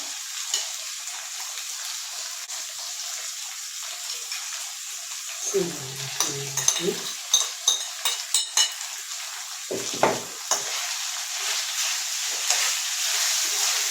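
Chopped vegetables tipped into a pan of frying minced meat for a raqaq pie, a steady bright sizzle with a burst of clattering and scraping as they go in and get stirred, close by and no talking.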